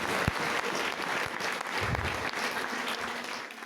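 A church congregation breaks into sustained applause, a dense wash of many hands clapping together for a few seconds at a steady, even level.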